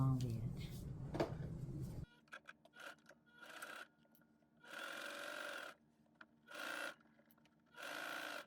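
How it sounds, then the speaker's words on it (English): A sewing machine stitches along the edge of wide-leg pants fabric in several bursts of steady whirring, each lasting about a second, separated by short pauses and small handling noises, after a brief opening rustle. "I'm gonna sew along the edge here"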